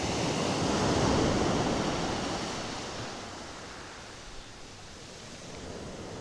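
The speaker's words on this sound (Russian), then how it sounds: "Волны шумят." Steady roar of surf washing in, swelling louder early on and then easing into a softer, continuous hiss of water.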